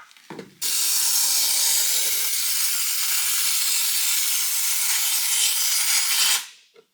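A nearly empty aerosol spray can releases one steady, loud hiss lasting about six seconds, then sputters out, preceded by a brief rattle of the can.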